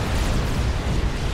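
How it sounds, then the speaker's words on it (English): Dense barrage of cannon fire and explosions from a large 6v6 battle in the strategy game Supreme Commander, a continuous loud booming rumble with overlapping blasts and no clear gaps. "Lots of cannons firing at one another"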